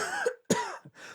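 A person gives a couple of sharp, close coughs with a throat-clearing rasp, outdoors, in quick succession over about a second.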